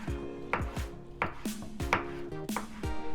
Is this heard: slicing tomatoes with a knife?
yes